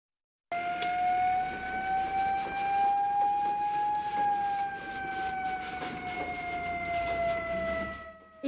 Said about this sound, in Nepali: एका बिहानै साइरन बजाउँदै कोइलाबास आइपुग्छ गडुवा गाउँपालिकाको दमकल